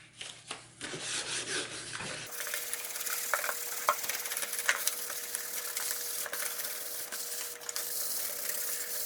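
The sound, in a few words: sanding a face shield lens with 1500 grit sandpaper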